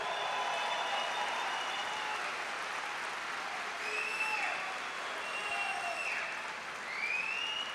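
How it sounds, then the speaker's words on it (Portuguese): Steady applause from a crowd fills the whole clip at an even level, with a few high whistles or cheers rising above the clapping. "uma salva de palmas ao nosso grande mestre"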